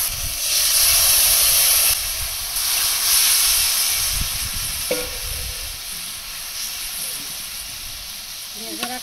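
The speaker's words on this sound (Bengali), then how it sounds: "এবার সিদ্ধ করে রাখা পুঁই শাক ঢেলে দেবো।" Boiled Malabar spinach is poured into a hot pan of browned onions and ground cumin, letting out a loud steamy hiss and sizzle that holds steady and then slowly settles.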